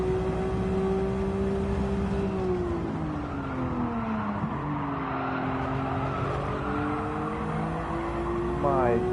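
Race cars lapping in Gran Turismo, with steady engine whines rising and falling as they shift and close on each other, a tire squeal near the end, and someone talking over the racing throughout.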